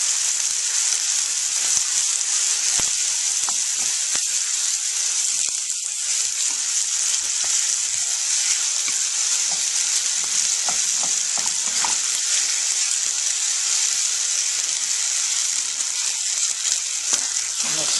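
Beef rendang sizzles steadily in a pan as coconut milk is stirred in, a constant bright frying hiss with occasional soft scrapes of the spoon, loud and close throughout.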